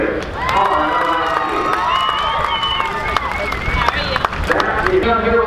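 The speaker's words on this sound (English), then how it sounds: "would you give a nice round of applause for our pole center, Hailie Deegan." A speedway grandstand crowd at New Smyrna Speedway cheers and applauds as the pole sitter is introduced, a steady dense roar of clapping and shouts with voices mixed in throughout.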